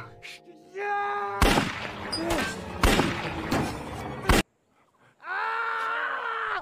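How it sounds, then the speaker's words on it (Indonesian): A burst of loud, chaotic pistol-fire cracks and blasts over about three seconds, shots fired wildly in all directions, with groaning or wailing voices before and after. "dia menembak asal ke segala arah"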